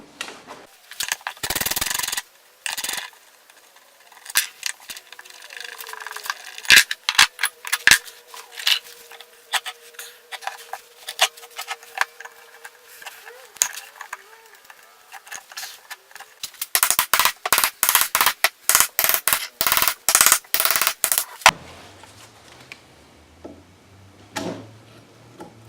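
Metal clicks, taps and clanks come from tools as the old bearing housing is removed from a Chevrolet Cobalt SS intermediate shaft. The sharp knocks are irregular and close, with dense bursts in places.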